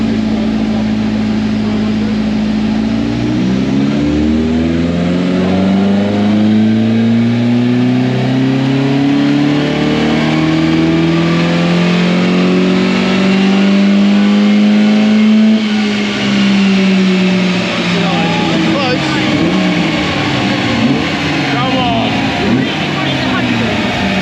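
A front-wheel-drive car engine revs up on a dyno and holds at high pitch, rising steadily then dropping off, loud and close, with a voice talking faintly underneath.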